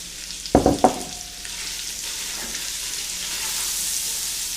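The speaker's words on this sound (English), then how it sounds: "So till the onion is going to be cooked, the bacon is going to be fantastic." Bacon and onion fry in a pan, a continuous close sizzle with a few knocks of a utensil at the start, steady and without talk.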